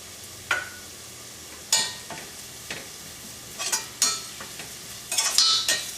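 Golden onions and turmeric powder fry in a pan for a Kerala-style mutton curry, a low sizzle under repeated scraping stirs of a spoon that come in short bursts.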